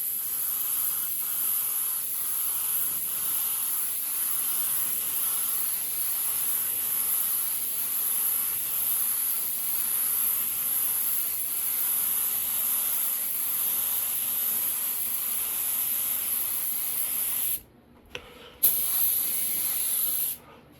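A spray gun paints a motorcycle tank with a lace pattern, set a turn and a half out on fluid, full fan, at about 15 psi: a steady, close, loud hissing spray that runs unbroken before cutting off briefly near the end, with no talk.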